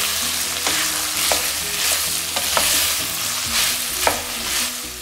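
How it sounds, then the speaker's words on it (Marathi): Frozen green peas sauté in hot oil for hara bhara kabab, a continuous bright sizzle close up with repeated scraping stirs of a spoon against the pan. "हे छान सॉटे करायचं तेलामध्ये"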